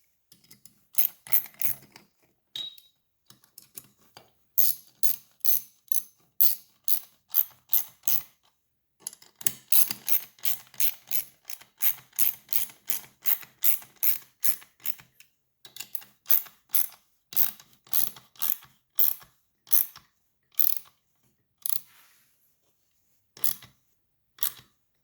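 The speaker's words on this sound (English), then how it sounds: "Now you would bolt these in tight with your ratchet." Ratchet clicking in repeated bursts of rapid, sharp ticks while bolts on Honda B18 engine valve spring parts are tightened, close and clear with short pauses between strokes and no talk.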